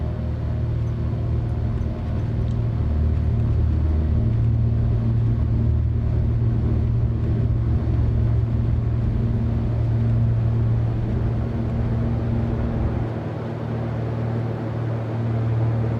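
Twin engines of a Beechcraft Baron 58 drone loudly through takeoff, a steady close cockpit rumble with a droning pitch that shifts partway through and drops slightly near the end.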